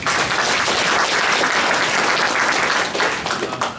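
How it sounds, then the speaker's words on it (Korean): Residents at a county town-hall meeting in Galsan-myeon give a big round of applause, loud and dense clapping sustained throughout before tapering slightly. "또 잘 해달라고 다시 한번 큰 박수 부탁드립니다"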